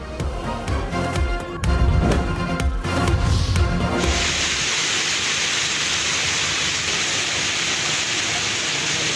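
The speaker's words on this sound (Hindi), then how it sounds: "तूफानी किस्म की इस वक्त तेज हवा चल रही है," Strong stormy wind and heavy rain in Lahore make a dense steady roaring wash, loud and unbroken for several seconds after a stretch of louder, mixed rumbling noise.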